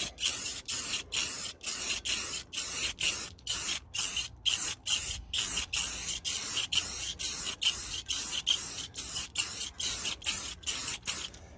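An aerosol rattle can lays clear coat over a flat painted surface in a long series of short, evenly paced hissing bursts, each about half a second, close and steady with brief gaps between passes.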